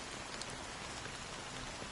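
Steady rain falls in Honkai: Star Rail, a soft, even hiss of drops on a surface, continuous and quiet with no voices.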